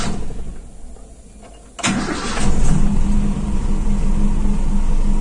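A hot Toyota Kijang Super engine cranks once briefly and catches quickly, then settles into a steady, loud, close idle with a constant hum until the end.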